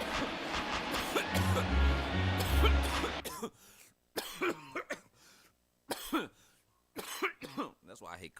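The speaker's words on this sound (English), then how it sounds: "That's why I hate coughing when I gotta do this." A cough from a sports broadcaster calling a Dodgers versus Padres MLB baseball game, sounding close to the microphone, alongside broadcast commentary and crowd noise that drops away partway through.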